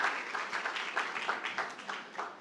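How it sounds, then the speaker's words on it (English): A conference audience at a startup pitch-battle event applauds steadily, a dense wash of many hands clapping with a pulsing rhythm that holds for a couple of seconds. "A round of applause"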